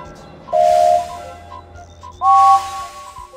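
Two loud steam engine whistle blasts from a video game, a short one and then a slightly longer, higher one, ring out clearly against a quiet background.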